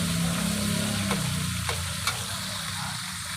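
Adobong kangkong with tomatoes sizzles steadily in a hot pan, broken by a few scraping stirs of the spatula. The cooking is close and loud, with no talking.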